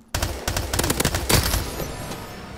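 Rapid automatic weapon fire from Call of Duty Advanced Warfare on Xbox One: a dense run of sharp, loud bursts close up that fills most of the moment, then thins into a trailing rumble.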